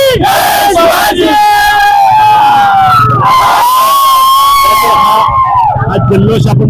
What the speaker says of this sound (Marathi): हा जल्लोष आपण पाहिलाय, तरुणांच्या मध्ये जल्लोष असणारा आपण पाहतोय.